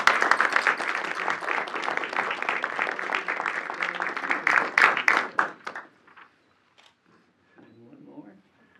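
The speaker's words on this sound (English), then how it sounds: "let's give him a round of applause" A city council meeting room breaks into applause for a retiring council member, a dense burst of clapping lasting about six seconds before it cuts off, followed by faint murmuring voices.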